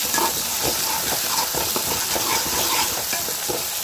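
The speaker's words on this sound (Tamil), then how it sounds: "காரக்குழம்புக்கு தக்காளி பச்சை மிளகாய் வெங்காயம் எல்லாமே வதங்கிடுச்சு" Tomato, green chilli and onion sautéing in a pan for kara kuzhambu, a close, steady sizzle broken by frequent scraping and clinking of a metal spoon against the pan, no talking.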